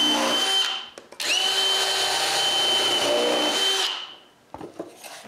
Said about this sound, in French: je dois quand même percer des trous pour retenir tout ça en place